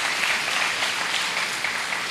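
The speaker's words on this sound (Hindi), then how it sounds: "फिर से ताली बजाइए" A spiritual talk audience claps together in a dense, steady round of applause lasting a couple of seconds, loud and even throughout with no pauses.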